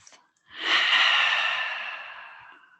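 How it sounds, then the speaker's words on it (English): A single long, breathy exhale through the mouth during a trauma-informed yoga breathing exercise, rising quickly and fading slowly over about two seconds, close and fairly loud, with no talking over it. "join me for a cleansing breath in and out, breathing in through the nose,"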